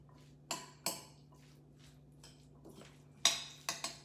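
Utensil stirring shrimp salad with sliced cucumbers in a bowl: a handful of sharp clinks and scrapes in uneven bursts, close and fairly crisp, over a low steady hum with no talking.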